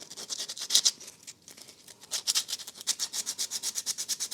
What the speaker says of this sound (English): Alright then, so after a bit of sanding